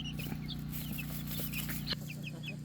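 Brahma chickens, one hen and one rooster, cluck in short, repeated bursts inside a coop on an off-grid homestead, close by over a steady low hum.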